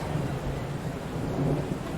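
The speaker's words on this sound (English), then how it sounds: "I thought that was in real life there for a second, that thunder there." Thunder rumbles steadily through a rainy storm in the Train Sim World 3 railway simulator, a low, continuous roll with rain hiss beneath and no voices.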